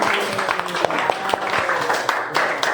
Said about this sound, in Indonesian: Beri aplaus untuk kelompok selanjutnya.